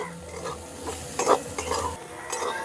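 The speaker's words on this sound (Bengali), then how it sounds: "ভালো করে মিশিয়ে নেব" Pea filling for mini singara, seasoned with garam masala and chopped coriander, being stirred in a pan, with soft scraping and faint sizzling and a few louder clinks of a spoon against the pan.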